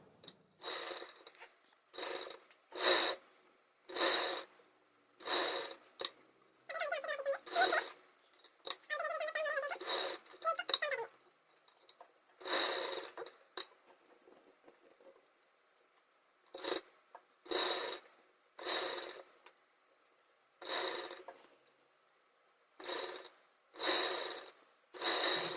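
A sewing machine stitches blouse sleeves in short separate bursts of rapid clattering, each lasting about a second with quiet gaps between, plus a longer rustling stretch of fabric handling in the middle.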